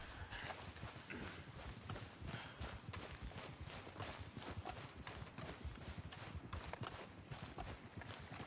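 Horse hooves clip-clop at a quick, steady gait in Red Dead Redemption 2, a soft, continuous run of hoofbeats with no voices.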